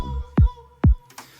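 Electronic bass sound with no flanger movement, heard as two deep, punchy bass hits that each drop sharply in pitch, over a sustained low tone, ending in a short burst of brighter noise.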